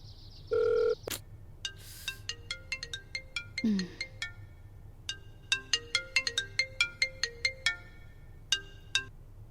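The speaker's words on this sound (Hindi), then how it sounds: "तो फोन की ही बेल देनी पड़ती है" A mobile phone ringtone plays a bright, repeating electronic melody of short chiming notes, clear and close, with brief pauses between phrases.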